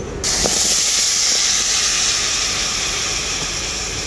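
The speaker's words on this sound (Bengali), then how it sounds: "সব কিছু একসাথে মাখানো আমটাও আমি দিয়ে দেব কড়াইয়ের মধ্যে।" A spiced mango mixture hitting a hot wok bursts into a loud, sustained hiss of steam right after a silent instant, fading slightly while a few faint clinks sound underneath.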